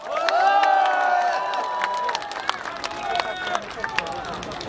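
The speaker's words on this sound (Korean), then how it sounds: "힘찬 함성과 박수 부탁드리겠습니다" A crowd at an outdoor presidential campaign rally in Chungju roars with cheers, whistles and scattered clapping, loud and close at first, then thinning into lighter bursts of shouts and claps.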